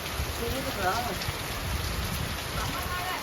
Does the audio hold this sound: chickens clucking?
no